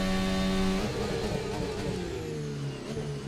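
F1 car engine in an F1 racing video game at Istanbul Park, revving loudly with steady mid-pitched harmonic tones that shift down as it changes gear, continuous and close.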